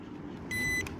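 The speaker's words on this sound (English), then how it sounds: "When you open, the battery automatically open as you hear the beep." Drone battery switching on gives a short, bright electronic beep that cuts in briefly over a low background hum, close and clear.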